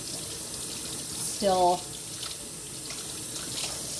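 A kitchen tap runs cold water steadily over homemade butter in a sink, a continuous hiss with a short, louder gush midway as a voice speaks briefly over it.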